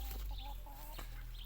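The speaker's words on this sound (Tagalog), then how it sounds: "May manok." Chickens clucking on a backyard farm, a short run of close, rhythmic clucks over a steady low background, with no talking.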